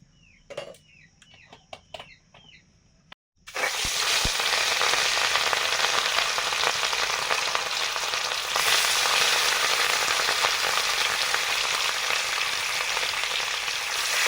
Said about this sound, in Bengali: এখন রুই মাছগুলো ভেজে নিচ্ছি